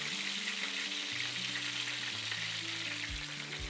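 Tender veal cutlets pan frying in oil, a steady soft sizzle and crackle heard close up, with faint tonal background hum and no talking.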